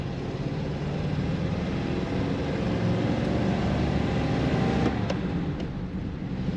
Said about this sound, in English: Very smooth running 1949 Ford Coupe